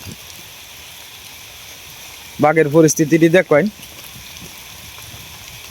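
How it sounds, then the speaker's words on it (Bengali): Rain falls steadily outdoors as a soft, continuous hiss, with someone speaking briefly over it in the middle. "আবার বৃষ্টি পড়তেছে"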